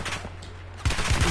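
Automatic gunfire in the video game Warzone, set in Verdansk, erupts as a loud, dense rapid burst after a short stretch of quieter game ambience, heard close over a low steady hum.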